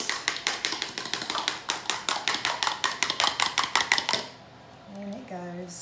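Fork or whisk rapidly tapping against a bowl while beating eggs into root vegetable fritter mix, a quick steady rhythm of close, bright clicks that stops abruptly, followed by a brief pause and faint voice.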